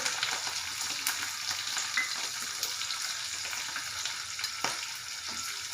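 Curry leaves and finely chopped green chillies sizzle in hot oil for chivda, a steady close crackle and hiss with occasional sharper pops, no talking.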